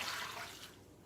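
Water pouring into a pot for red beans and rice, a soft splashing gush that fades away within about a second, quiet and close.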